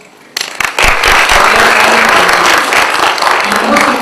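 Loud applause from an audience fills a lecture hall, breaking out abruptly and holding as a steady dense clatter of clapping throughout.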